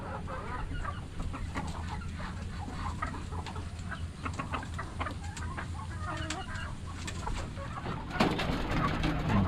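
Chickens and ducks on a farm pecking at grass and leftover corn, with scattered clucks and soft bird calls over a steady outdoor background, a louder burst of activity near the end.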